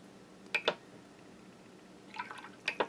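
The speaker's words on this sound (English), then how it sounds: "And then put some water on there." Brush dipping into water and dabbing it onto a watercolor flower painting, two quick wet taps, a pause, then a cluster of soft splashy dabs, close and quiet.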